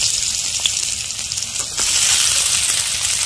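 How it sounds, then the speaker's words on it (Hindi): Finely chopped onion and green chilli fry in a hot pan, giving a loud, close, steady hiss that swells into a stronger sizzle partway through as more goes in. "अब डालते हैं दोस्तों बारीक कटी हुई प्याज"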